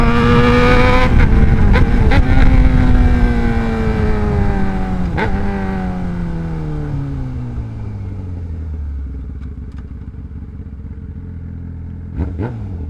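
A Yamaha R6 sport motorcycle rides along in a steady cruise, its engine loud and close with a long falling drone as it eases off the throttle, over constant wind rush and a few brief clicks and clunks.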